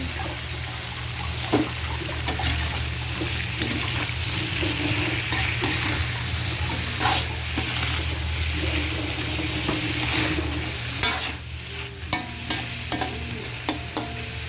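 Shrimp stir-fry in a pan with steady, loud sizzling and repeated scraping and stirring against the pan, clinks of utensil toward the end.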